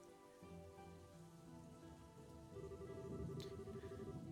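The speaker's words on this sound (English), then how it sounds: "And there's the rain." Rain falling in the role-playing game Trails in the Sky the 3rd, a soft steady hiss of drops on surfaces beneath a quiet sustained musical score, swelling slightly louder partway through.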